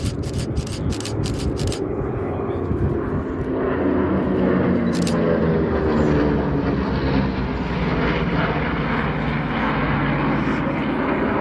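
A B-25 Mitchell bomber flying at an airshow, its piston engines giving a loud sustained rumbling drone that holds steady throughout, with brief clicks early on and an announcer talking over it.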